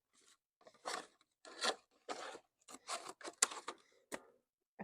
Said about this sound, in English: So if you just take yourself some scissors, snip yourself